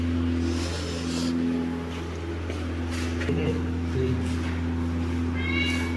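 A black cat meows a few times in a kitchen, the short calls rising over a constant low appliance hum, with some faint voices in the room.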